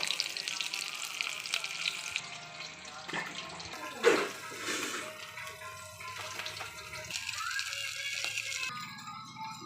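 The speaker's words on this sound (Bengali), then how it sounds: "দেখো আমার মাছ ভাজা হয়ে গেছে।" Katla fish pieces fry in hot oil, a soft continuous sizzle and crackle heard fairly faint and close, with an occasional brief clatter and little talking.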